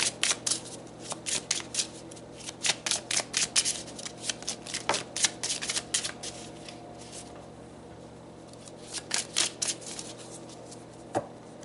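Tarot cards shuffled by hand at close range, rapid riffling flutters in repeated bursts with pauses between, ending in a few softer taps and card sounds.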